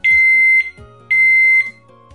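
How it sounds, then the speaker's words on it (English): Two long, steady electronic beeps from an Ultrak SG-10 countdown timer, each about half a second, separated by a short pause; loud and close, with nothing else around them. "At the end of the countdown, there will be two long beeps."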